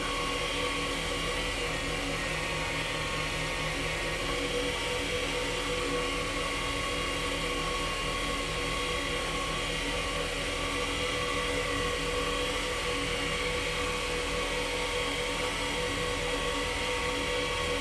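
A turned Sierra steampunk pen spins on a lathe while being sanded with 3600-grit abrasive, giving a steady, even whir with a constant hiss that holds at the same level throughout.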